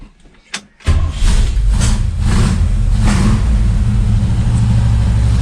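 A 1961 Pontiac Laurentian, unrun for 30 years, cranks briefly and fires, then settles into a loud, steady, rumbling idle heard up close.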